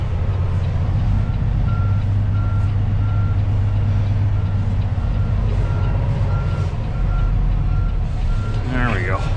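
A straight truck backing up on a snowy lot sounds a steady series of reversing beeps over a loud idling diesel engine, with a brief chirping sound near the end.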